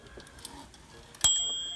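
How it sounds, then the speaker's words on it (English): A single bright ding from the carriage bell of a Script Olympia SM8 manual typewriter rings out sharply, then sustains and slowly fades in a quiet room, preceded by faint mechanical clicks. "it does have a smooth carriage and a nice loud bell"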